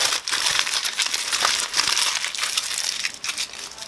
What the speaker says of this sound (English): She said to cover it in aluminum foil,